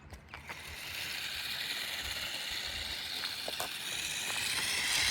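A 4WD 3D-printed RC car driving off-road, with a steady rising whir of its small motor and gears, plus clicking and scrabbling bursts as the wheels crunch over rough ground.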